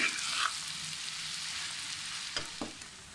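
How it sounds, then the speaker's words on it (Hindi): Okra and potatoes fry in a pan with a soft, steady sizzle, broken by a few light stirring scrapes near the end. "पाँच मिनट फ्राई।"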